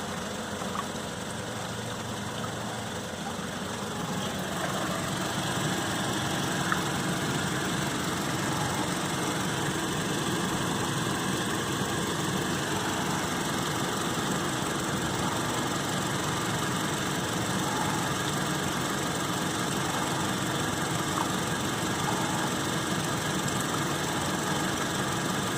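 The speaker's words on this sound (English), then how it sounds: "The engine is on, the heat is on." A 2005–2015 Toyota Tacoma engine idles steadily during a radiator coolant flush, a constant mid-pitched hum that firms up slightly after the first few seconds and continues evenly with no talk.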